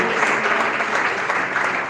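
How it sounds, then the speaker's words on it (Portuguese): A church congregation claps hard and fast in praise of Jesus, a dense, loud wash of applause that fills the room steadily with no voices heard. "Palmas bem fortes"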